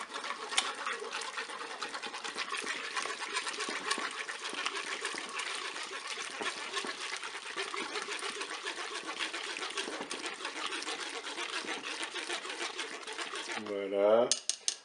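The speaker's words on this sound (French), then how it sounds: "je vais casser mes œufs directement dans la cuve. Un œuf, un deuxième. On va bien mélanger tout ça." Eggs being whisked into rice pudding inside a Cookeo multicooker pot, a steady scraping, clinking stir that runs continuously at close range, ending with a brief louder knock.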